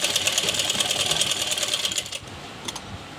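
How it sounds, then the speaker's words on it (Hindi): A sewing machine stitches an Afghani salwar, producing a rapid, even mechanical chatter close by for about two seconds before slowing and stopping, followed by a couple of faint clicks. "अब इस तरह से मैंने पूरी चारों तरफ सिलाई लगा दी"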